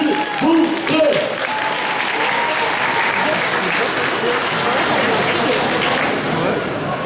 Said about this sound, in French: je vous prie, s'il vous plaît, de faire un tonnerre d'applaudissements à Mero Mero